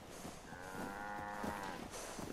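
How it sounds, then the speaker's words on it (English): Cattle low in the Fallout 4 video game at the Starlight Drive-In settlement, a drawn-out moo with harmonic tone rising over a quiet outdoor game ambience, fairly close and alone. "there's a lot of cows running around early in the morning here"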